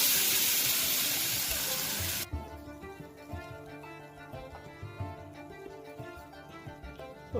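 Milk pours into a pan of sweetcorn pasta with peas and capsicum, a loud steady gush for about two seconds, followed by quieter sizzling and stirring.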